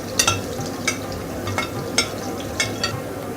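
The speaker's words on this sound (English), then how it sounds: "अब oil गर्म हो गया, हम इसमें ये lamb mix कर देंगे" Lamb frying in hot oil in a kadai, a steady sizzle broken by regular sharp scraping strokes of a stirring spoon against the metal, close and fairly loud.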